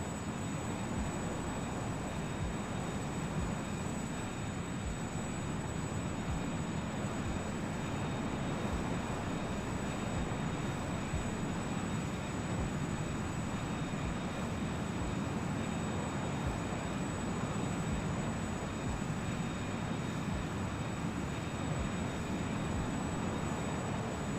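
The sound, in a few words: Learjet 35A jet engine in Microsoft Flight Simulator 2020 video game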